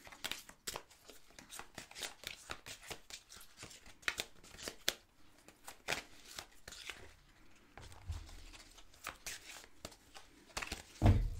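Paper zodiac sign cards shuffled by hand, a faint irregular series of soft flicks and rustles spread over about eleven seconds, quiet and close.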